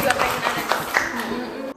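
Students in a classroom clap together in a quick, uneven patter, with a teacher's voice talking over the applause throughout.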